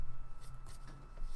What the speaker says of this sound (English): I'll give them a quick shuffle real quick.